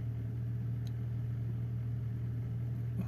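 A BMW E46 325i engine idling with its RPM dipping just above idle, a steady low hum heard close with no voices.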